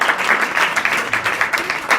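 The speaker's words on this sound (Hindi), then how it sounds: "इनके लिए ताली बजाओ" Students in a school assembly clapping for a ninth-grade pupil, a brief burst of fairly close, choppy hand claps with a pulsing rhythm.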